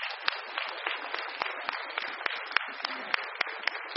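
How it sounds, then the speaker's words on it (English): Applause from a union conference audience for local presidents, a thin, steady patter of many hands with regular sharper claps on top, somewhat distant and moderately quiet. "Let's give them all a great round of applause."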